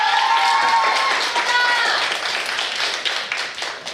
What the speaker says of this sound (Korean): 함성과 박수 부탁드리겠습니다